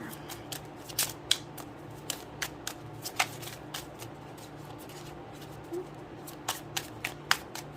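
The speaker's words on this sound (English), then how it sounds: "Let's see if we can get one more card here out of this deck." A deck of tarot cards is shuffled and a card drawn, giving soft papery riffles and several sharp, close flicks and snaps spread irregularly over a quiet room.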